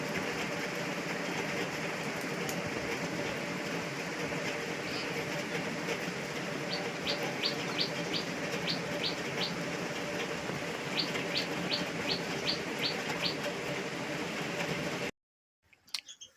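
Repeated bursts of shrill parrot chirps, a few quick calls at a time, ring out over a steady hiss of background noise before it cuts off, as the parrots come to drink water in summer.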